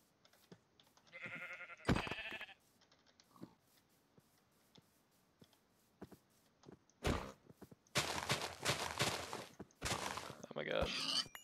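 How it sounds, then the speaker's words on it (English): Cows mooing in Minecraft on a hardcore survival world, heard as a few separate low bleating calls spaced apart. Footstep thunks and quiet game sounds fill the gaps between the calls. "Some cows over there."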